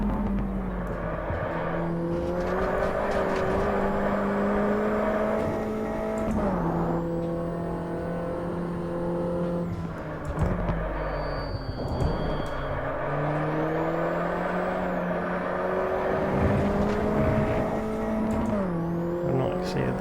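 A MINI race car engine drones steadily in the Automobilista racing game, holding pitch, then rising and dropping with upshifts and braking, and someone talks over it throughout.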